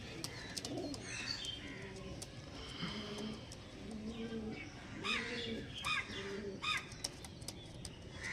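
Pigeons coo in soft, repeated throaty phrases nearby, with occasional chirps and wing flaps, faint overall against a quiet background.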